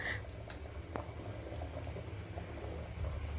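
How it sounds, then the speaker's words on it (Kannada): Village-style fish curry sambar bubbling in a pot, a soft continuous burble with a few small pops, faint and close, with no voices. "ಸಾಂಬಾರೆಲ್ಲ ಕುದಿ ಬರ್ತಿದೆ, ನೋಡ್ತಾ ಇರ್ಬೋದು ನೀವು."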